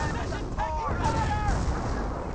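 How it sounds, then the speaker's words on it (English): Hotchkiss artillery barrage in the Company of Heroes video game, booming shots and low rumbling impacts under a steady battle din, with chirping whistles overhead and a voice speaking over it. "Hotchkiss now firing a barrage trying to hit these forces"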